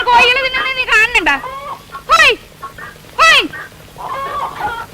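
Chickens cluck and squawk close by in a farmyard scene from an old Malayalam film, with several loud bursts mixed with human voices.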